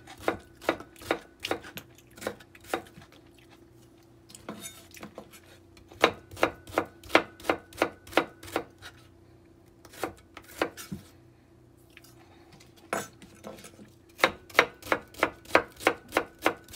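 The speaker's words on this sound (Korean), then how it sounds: "오이를 채 썰어서 넣어줘야 맛있습니다." A knife julienne-cuts cucumber on a board in quick, even bursts of close, crisp taps, pausing briefly between runs.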